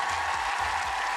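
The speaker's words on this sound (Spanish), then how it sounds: "Daniela, te mandamos un aplauso a la distancia." Applause during a Spanish-language radio interview program, a short dense wash of clapping over a low rumble, steady and fairly loud throughout.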